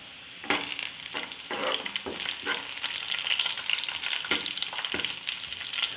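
Cumin seeds hit hot oil for a moong dal, bursting into a loud, close sizzle with sharp crackling pops and spitting that settles into a continuous fizz.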